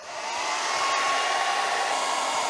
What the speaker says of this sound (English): I'm not qualified to run a hair dryer.